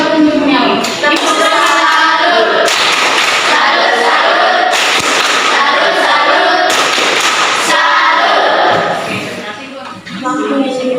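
Students in a classroom clapping together, bursts of dense applause that start and stop several times, mixed with voices and shouting, then fading near the end.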